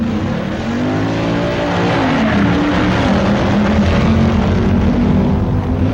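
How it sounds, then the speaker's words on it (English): Ford and Plymouth race cars roar side by side in a 1965 AHRA Winter Nationals drag race on Arizona asphalt, a loud, continuous engine drone filling the whole stretch with no break. "The Star Hickey Ford in the near lane races the Golden Commandos Plymouth."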